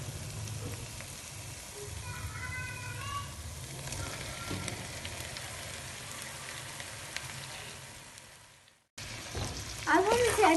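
Fried okra frying in oily spiced masala in a pan, dhaba-style, giving a steady close sizzle with some stirring, a brief break near the end, then louder crackling.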